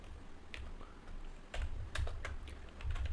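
Quick, light clicks of a computer keyboard close by as code is typed, a short irregular burst of keystrokes with no talking.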